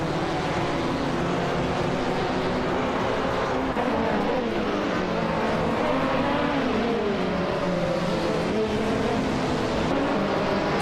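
GT4 race cars, including a 2008 KTM Crossbow GT4, lap the Iberian International Circuit in a racing video game. A dense, continuous engine roar rises and falls in pitch as the cars accelerate and shift, with no speech.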